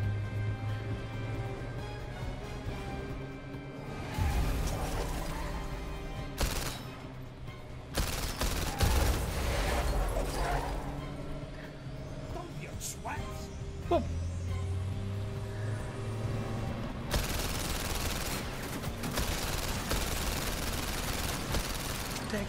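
Gunfire in the VR game PlayStation VR Worlds: The London Heist, with bursts of shots and rattling volleys over a car engine and rumbling game noise, sustained and fairly loud throughout.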